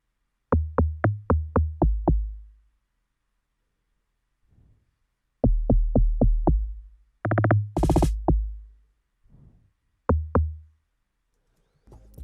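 A snare drum sample in a FL Studio Afrobeat-style beat remake, heard alone as several sharp repeated hits in quick rhythmic bursts with pauses between groups, punchy and close.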